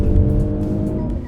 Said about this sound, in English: flick a button here and it will move into a more powerful, more AMG oriented exhaust like this one